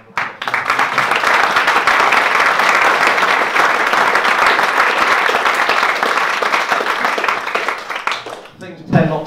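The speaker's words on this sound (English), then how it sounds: "want to say thank you very much to David, maybe give him a round of applause." Audience applause at a football supporters' trust fans' forum, a loud full burst of many hands clapping that swells quickly, holds steady for several seconds, then tapers off at the end.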